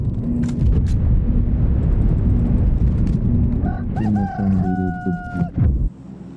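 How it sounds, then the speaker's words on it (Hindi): A rooster crows in PUBG Mobile, a loud cock-a-doodle-doo with stacked harmonic call notes near the end, over busy game noise and someone speaking. "मुर्गा कहाँ से आ गया"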